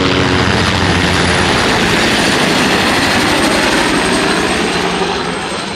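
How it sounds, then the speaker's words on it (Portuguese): A low-flying helicopter passes close overhead on a city street, its engine roar and rotor throb loud and steady the whole time, easing slightly toward the end. "olha como o helicóptero tá voando baixo"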